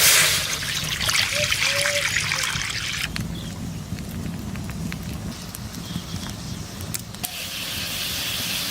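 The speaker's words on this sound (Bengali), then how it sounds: "কড়াই জল দিচ্ছি" Water pours into a kadai (wok) on the stove, a splashing, trickling rush that is loudest at first and settles into a steadier running sound.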